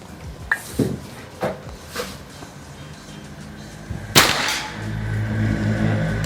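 A Bocap Escobar PCP air rifle fires a slug: one sharp, loud crack followed by a lingering outdoor ring, with a few fainter knocks and handling sounds beforehand and a low steady hum after.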